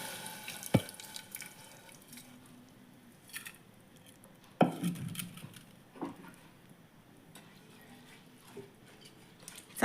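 Water goes into a pot of fried masala and soaked rice for veg pulao, heard as quiet, scattered splashes and trickles with a few sharper knocks, separated by soft gaps.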